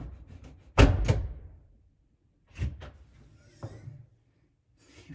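A door latch on a Ford F550 expedition vehicle clacks sharply once, with a second thud and a fainter clunk following at separate moments, close to the microphone and without talk.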